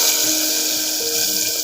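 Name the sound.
pouring tempering into pressure cooker curry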